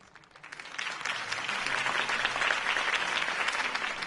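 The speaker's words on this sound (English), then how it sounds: "could have heard that applause" Applause in a Batman video game swells from a quiet start into sustained, even clapping from a crowd, continuing steadily without a break.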